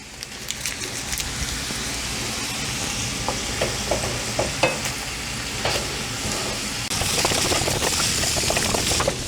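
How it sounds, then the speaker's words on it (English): Sausage frying in a pan on the stove while butter melts into it for Southern sausage gravy, a steady close sizzle with scattered spits and scraping stirs, louder and denser toward the end, with no talk. "Just drop it in, let it melt in with the rest of the sausage."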